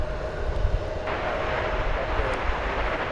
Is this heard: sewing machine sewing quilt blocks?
no